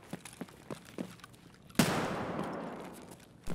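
A 12 gauge shotgun firing buckshot in a video game: a few faint ticking shots, then one sharp, loud blast whose noisy tail decays over nearly two seconds, with another hit starting at the end.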